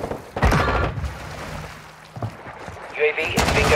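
Grenade blasts from Modern Warfare 2 gameplay, a couple of heavy thuds and booms scattered across a few seconds, with faint game noise and brief talk underneath.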